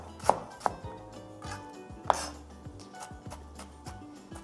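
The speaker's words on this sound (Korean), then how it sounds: "생강은 껍질을 제거하고 마늘과 동일하게 편을 썰고" A knife cuts peeled ginger into slices on a cutting board. A few sharp chopping knocks ring out, with softer irregular taps of blade on board between them.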